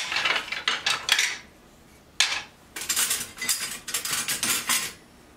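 Metal cutlery clatters and jingles close by as kitchen utensils are picked up and sorted, in several bursts of rattling separated by short pauses, with no voices.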